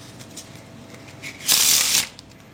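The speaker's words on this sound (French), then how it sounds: "Même un jeu de cartes complètement neuf, on n'a aucun problème à le mélanger" A brand-new Karnival Midnight playing card deck by Big Blind Media being shuffled, a loud half-second burst of riffling cards in a quiet room.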